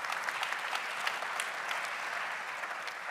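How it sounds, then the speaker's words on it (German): A dense, even wash of applause fills a conference hall at an innovation congress as the audience claps for a speaker, steady and sustained from start to finish, with no pauses or voices. "Auch einen herzlichen Applaus für Oliver Ganser,"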